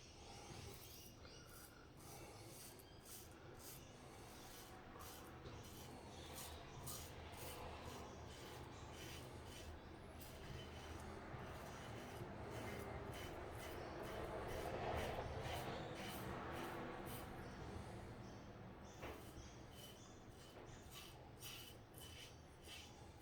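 Close, quiet, repeated rasping strokes of a double-edge safety razor fitted with a Kai blade cutting through facial stubble, with a steady scraping rhythm throughout.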